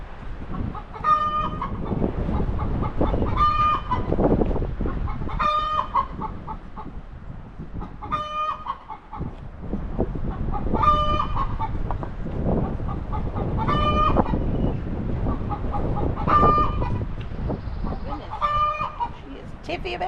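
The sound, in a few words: chicken clucking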